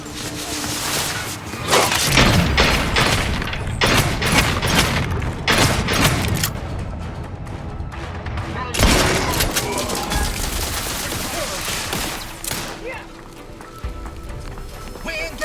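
Gunfire in the video game The Outer Worlds 2, loud dense bursts of shots and booms that come in waves over a sustained battle soundscape, with some voice mixed in.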